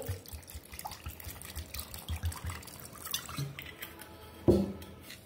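Cold fridge water is poured into a mix of yogurt and crushed ice for lassi, making short splashes and drips, with one louder splash near the end.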